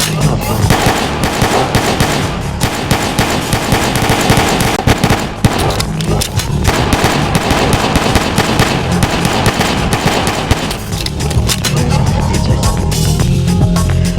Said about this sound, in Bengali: গুলিটা শোনা